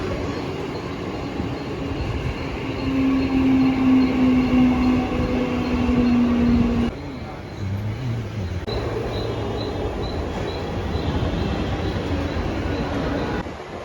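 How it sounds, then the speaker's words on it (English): Inside a moving Mumbai passenger train on a holiday, a steady loud rumble of wheels and carriage runs throughout, with a sustained metallic wheel squeal early on and clattering rail noise, no talk. "I'm taking a train from here to our next port."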